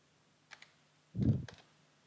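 A few quiet keystrokes on a computer keyboard: two light taps, then a brief cluster of heavier clicks, close up in a quiet room with no talking.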